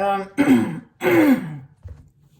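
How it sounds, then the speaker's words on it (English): Two close, forceful throat clearings in quick succession, followed by a faint breathy sound. "I'm clearing my throat again"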